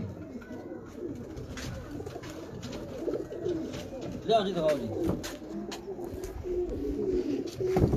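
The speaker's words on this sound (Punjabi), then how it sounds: "ਹਾਂ ਜੀ ਇੱਕ ਟੈਡੀ ਕਬੂਤਰ ਹੈ ਜੀ" Pigeons coo softly in low, rolling calls amid scattered rustling and flutters on a Faisalabad rooftop, while a person speaks briefly partway through.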